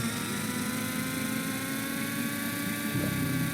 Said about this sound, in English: In this game, helicopters, so now I'm at full thrust, tilting up, and I got it going at about almost 90.